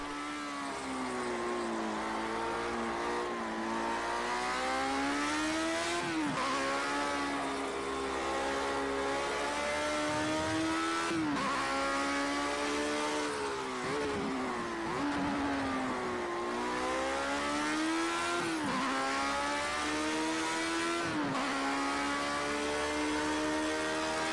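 A race car engine in the Project Cars 2 video game revs steadily and climbs through the gears, its pitch rising and then dropping at each shift, loud and continuous with no voices.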